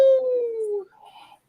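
A dog named Caesar howls once, a clear, close, falling tone that lasts most of a second before breaking into softer whimpers. A brief voice cuts in at the very end.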